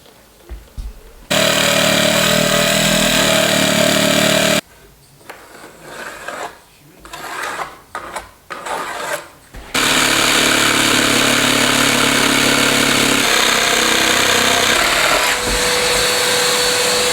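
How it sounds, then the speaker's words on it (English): A power tool cuts through a piece of wood at a building site, loud whining bursts broken by a stretch of intermittent knocks and handling noise before the tool runs steadily again. "Cutting this bit of wood."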